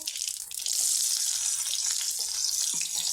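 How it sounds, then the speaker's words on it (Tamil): Two medium-large chopped onions hit a hot pan of crackling mustard seeds for a soy chunk gravy, giving a loud, steady sizzle and fry hiss that swells after a brief quieter start and continues throughout. "இப்போ நம்ம கட் பண்ணி வச்சுக்கிற மீடியம் சைஸ் பெரிய வெங்காயம் 2 போட்டுக்கலாம்."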